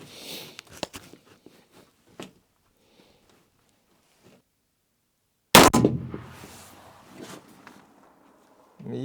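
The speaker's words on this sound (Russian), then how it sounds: "Пробуем еще один выстрел" A single rifle shot fired at a 400-metre target through a PARD Ocelot 640-LRF thermal sight, one sharp loud crack midway, followed by rustling and handling noises, with small clicks and movement sounds before.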